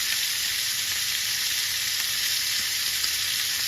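Butter sizzling in a pan with rosemary and thyme, a steady, dense hiss of frying that holds evenly throughout, close and loud, with no talking.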